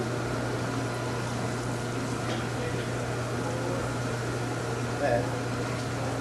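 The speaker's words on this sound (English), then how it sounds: "And now we let the mixer doing the job." A bakery dough mixer runs with a steady, even mechanical hum and drone that keeps going through the whole stretch, while muffled talk sounds faintly in the background.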